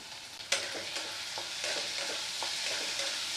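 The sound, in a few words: stir-frying spices with turmeric and Kashmiri chili powder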